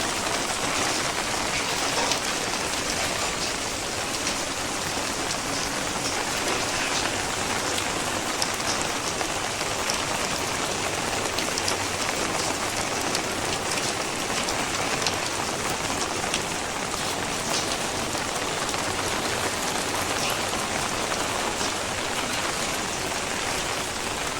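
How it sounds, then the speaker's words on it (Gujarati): Steady rain falls on an open rooftop terrace in Bhavnagar, a dense, even hiss of drops hitting the surface that holds constant and close throughout, with no voices or thunder. "તમે જોઈ શકો છો વરસાદ કેવો પડે છે"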